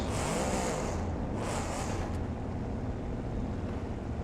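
A badly damaged Gravedigger monster truck keeps driving in a BeamNG Monster Jam freestyle run, its engine a constant, dense rumble with airy hiss, loud and close, unbroken by any voice.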